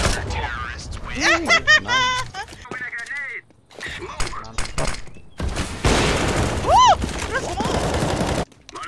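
A grenade blast and bursts of gunfire in a video game, loud and close, with rapid shots and sharp cracks mixed with excited voices talking over the action.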